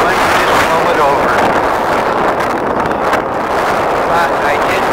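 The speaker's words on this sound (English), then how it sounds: "Yeah, it's way too windy for a tripod." Strong wind buffets the microphone on a beach, a loud, continuous roaring rush with gusty swells and no clear voices.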